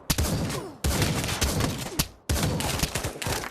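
A shotgun fires in the VR shooter Pavlov VR, three loud close blasts about a second and a half apart, each followed by a rattling tail of echo and movement.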